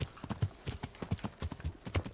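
Horse hooves in the video game Kingdom Come Deliverance clip-clop in a quick, steady galloping rhythm, close and clear, with no talk over them.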